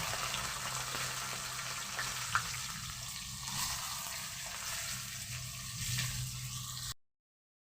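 Chopped onions fry in hot oil seasoned with bay leaf, cloves and cardamom for chicken biryani, a soft, steady sizzle and bubbling heard faintly throughout.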